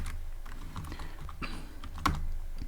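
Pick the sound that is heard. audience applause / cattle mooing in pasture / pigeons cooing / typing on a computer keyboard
typing on a computer keyboard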